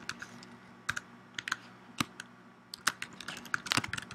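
Quiet, irregular clicks of keys on a computer keyboard as a password is typed, sparse single taps at first that speed up into a quicker cluster near the end.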